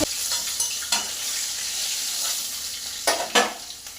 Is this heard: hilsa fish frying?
yes